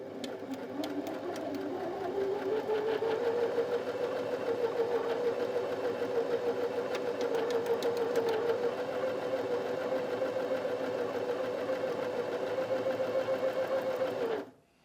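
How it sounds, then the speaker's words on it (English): A Janome Sewist 725s sewing machine stitches a buttonhole at moderate speed, a close, even mechanical whirr with a fast rhythmic needle clatter that holds steady for about fourteen seconds and then stops abruptly. "you don't want to go too fast with this to give it a chance to do a nice neat buttonhole"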